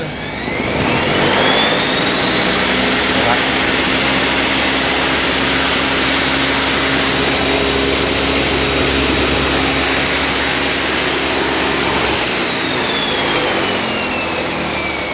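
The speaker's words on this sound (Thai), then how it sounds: "เมื่อเปิดเครื่องเนี่ยเครื่องดูดฝุ่นก็จะทำงานไปเลย" A vacuum cleaner with a soft-start motor winds up smoothly to a loud, steady, high-pitched whine, runs at constant speed at close range, then spins down as it is switched off.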